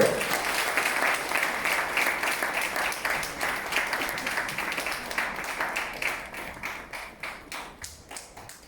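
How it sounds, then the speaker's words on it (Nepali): Applause at an event: a crowd claps steadily and loudly, then thins into slower, separate claps toward the end. "जोरदार ताली"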